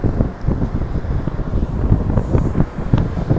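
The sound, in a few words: wind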